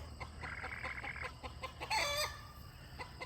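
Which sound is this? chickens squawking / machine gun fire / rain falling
chickens squawking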